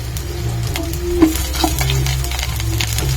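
Onion and garlic frying in only a little oil in a pan, a steady low sizzle that runs throughout, close by, with a couple of brief sharper pops along the way.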